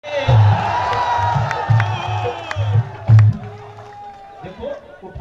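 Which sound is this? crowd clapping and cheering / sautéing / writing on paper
crowd clapping and cheering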